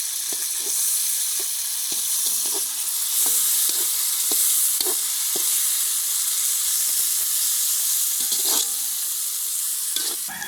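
Meat sizzles in boiling oil over a village cooking fire, a steady hiss of frying with scattered pops and crackles throughout.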